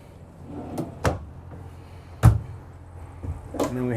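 A few sharp wooden knocks and thuds of a large storage drawer sliding open and shut in a Renegade Verona 36VSB motorhome, spaced irregularly, with faint voice-like sound near the end.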